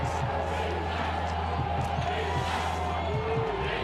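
Football crowd roaring steadily at Cheney Stadium during an Illinois State at Eastern Washington game, a dense continuous wash of cheering and shouting with no clear breaks.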